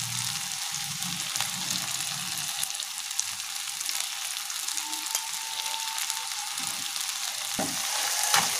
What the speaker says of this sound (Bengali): ক্যাপসিকামটা টমেটোটা একটু নরম হওয়া অবধি আমরা এটা ভাজবো।